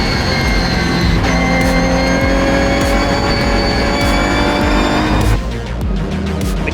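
The Army Ginetta race car spins off into the gravel during a Britcar race at Oulton Park. A loud, whining engine note with tire scrubbing runs for about five seconds, then drops away abruptly.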